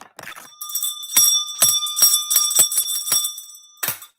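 A small bell rings repeatedly in quick bright strikes, a steady jingling run of about ten rings, then a pause and one final ring.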